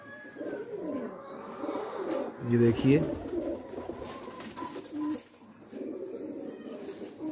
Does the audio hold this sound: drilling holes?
no